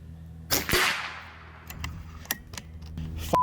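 A Macavity Arms MA2 .25 caliber air rifle fires one sharp, loud shot with a brief ringing tail, followed by faint mechanical clicks and handling noises at close range.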